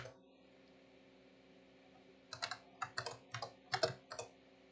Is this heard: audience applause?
no